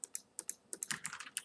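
Computer keyboard typing in a Minecraft game session: a dozen or so sharp, separate key clicks in an irregular rhythm, close and fairly quiet, with no talking.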